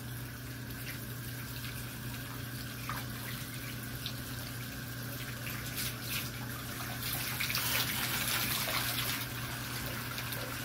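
Tap water runs steadily into a bath where pets are about to be washed, a constant, fairly soft rush that swells slightly near the end, with no talking.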